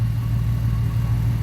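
A 1997 Ford Mustang V6 engine running at a steady idle, giving a loud, close, continuous low rumbling hum with no change in pace and no voices.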